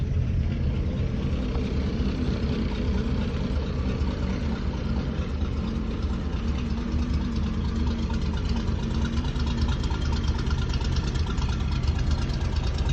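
A Toyota FJ43 Land Cruiser truck idling after a cold start, its engine giving a steady, low rumbling chug with a slightly knocking texture, continuous and close throughout.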